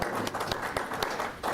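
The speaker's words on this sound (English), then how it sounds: "clap for the county executive" A small audience at a county health services accreditation event claps for the county executive, a scattered, uneven patter of hands that stays moderately close and fairly quiet, without cheering.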